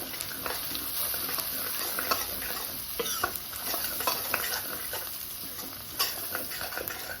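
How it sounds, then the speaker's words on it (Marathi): A turmeric mixture being stirred in a pan for kadhi pakoda, producing a continuous sizzle with repeated scraping strokes and light clatter close by, with no talking. "इथे आपल्याला हळद टाकायची आहे. हे सगळं मिक्स करून घ्यायचं आपल्याला."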